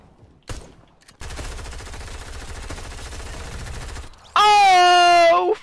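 Rapid automatic gunfire in the video game Fortnite, a loud sustained burst of closely spaced shots after a brief single blast, followed by a bright rising tonal game effect.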